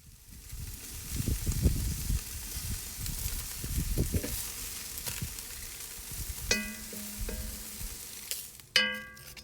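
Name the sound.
chicken added to Dutch oven, sizzling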